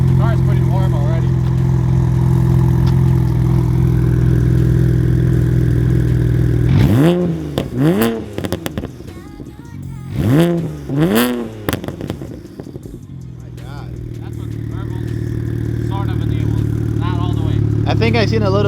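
A BMW 335i with a single exit exhaust idles loudly and deeply nearby, then revs sharply several times with rising and falling sweeps and crackling pops before settling back to a heavy rumble, while people talk over it.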